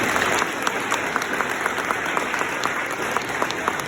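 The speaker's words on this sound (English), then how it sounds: "let's give a round of applause to Mr." Applause from a crowd at a Race for the Cure 5K event, steady close clapping with a few sharper individual claps standing out, lasting a few seconds without speech.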